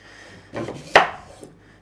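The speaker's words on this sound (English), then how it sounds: "And then I'll just cut that into chunks." A knife slices through a peeled sweet potato into chunks on a board, giving one soft scrape and then a single crisp chop, close and alone.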